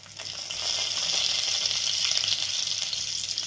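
Ajwain and cumin seeds sizzle in hot melted ghee, a continuous loud frying hiss that swells in after a moment and holds steady, with no voices.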